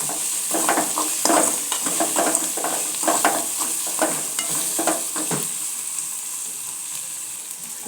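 Green chili paste fried in a pan with turmeric powder is stirred in quick, rhythmic scraping strokes over a strong sizzle for about five seconds. The sound then eases into a steady frying hiss.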